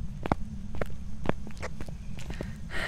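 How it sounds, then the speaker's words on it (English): Ghost footsteps in the Phasmophobia horror game: a series of sharp, irregular thuds over about three seconds, close and fairly loud against a low steady hum, with no talking. "massive footsteps around me"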